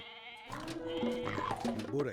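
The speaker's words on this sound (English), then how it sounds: "See if we can get these goats up here." Goats bleat in an Age of Mythology match, a few short bleats that overlap a game commentator's voice talking continuously through the clip.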